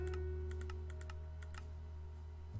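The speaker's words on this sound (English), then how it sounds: "I'm just gonna type in core" Typing on a computer keyboard: a short run of quick, light clicks in uneven bursts, close by, over a steady low hum.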